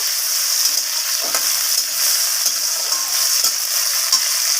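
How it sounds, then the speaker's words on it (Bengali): Cabbage curry with its spice tempering fries in a pan: a steady loud sizzle runs throughout, broken by scraping stirs at a regular pace. "আমি এইভাবে ফোড়নের সাথে একটু ভাজা ভাজা করে নেব"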